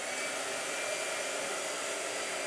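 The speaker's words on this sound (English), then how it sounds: "All right, blow dryer." A blow dryer runs steadily throughout, a loud, close, unbroken airy whoosh with no speech over it.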